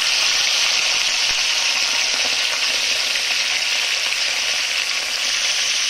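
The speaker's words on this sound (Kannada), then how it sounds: "ಚಿಕನನ್ನು ಹಾಕೋಣ." Half a kilo of chicken fries in hot oil in a pan for chicken sukka, a loud, continuous bright sizzle that stays steady and close with no talking.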